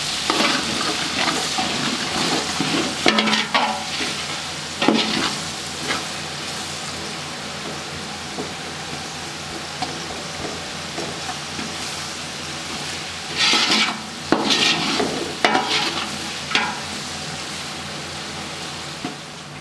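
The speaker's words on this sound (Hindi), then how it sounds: "चिकन क्यूब डालेंगे। बिस्मिल्लाहिर्रहमानिर्रहीम। अच्छे तरीके से मिक्स करके फ्राई करेंगे।" Chicken cubes stir-fry in a hot pan, giving a steady loud sizzle with repeated scraping stirs and clattering bursts throughout, no voices over it.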